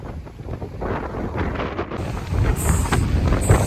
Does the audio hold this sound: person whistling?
no